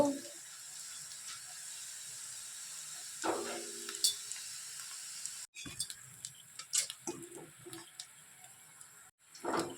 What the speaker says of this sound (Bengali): তেলটা প্রথমে ভালো করে গরম করে নিয়েছি তারপর আমি এটাকে ভাজছি